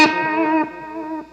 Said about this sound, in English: let's hear what that sounds like with the AT. This is a JHS AT a distortion pedal.